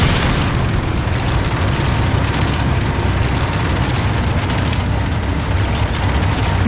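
A structure explodes in the video game Command & Conquer Renegade, heard as a loud, dense, continuous roar of booming blasts and rumble that fills the whole stretch, with no talking.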